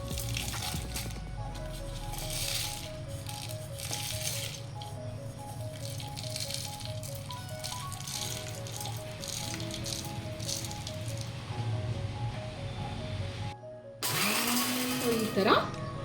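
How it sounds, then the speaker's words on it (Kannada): Roasted spices for mango rasam grinding into powder in a mixer grinder jar, a loud steady motor whir with rattling contents running for most of the clip, then a brief pause and a higher-pitched final burst. "ಅದನ್ನು ಇವಾಗ ಮಿಕ್ಸರ್ ಜಾರ್ಗೆ ಹಾಕ್ಕೊಳ್ಳೋಣ"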